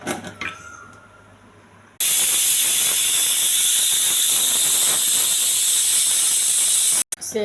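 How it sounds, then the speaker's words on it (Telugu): A pressure cooker cooking semiya pongal lets out a loud, steady rush of hissing steam for about five seconds after a quieter start, then cuts off sharply. "మూత పెట్టేసి 4-5 విజిల్స్ రానివ్వాలండి"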